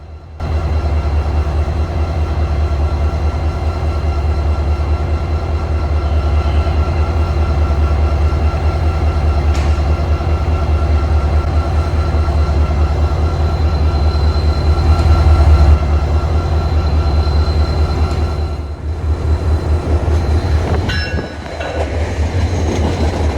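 A CSX locomotive hauls an MBTA welded rail train at Beacon Park Yard, its diesel engine throbbing steadily nearby with rumbling wheels, faint clanks and a brief squeal near the end.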